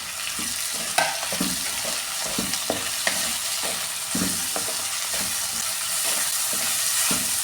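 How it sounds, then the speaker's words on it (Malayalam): Tomato being sautéed in a pan for a sardine curry, giving a steady close sizzle with frequent scraping and knocking of a spoon stirring, without any speech. "ഇത് അത്യാവശ്യം നന്നായിട്ടൊന്ന് വഴറ്റി എടുത്തിട്ടുണ്ട്."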